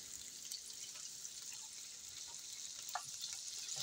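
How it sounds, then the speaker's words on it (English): Figs sizzling in bacon grease as they are stirred, a faint, steady frying hiss with small crackles and a soft scrape near the end. "I'm just going to mix that into the bacon grease"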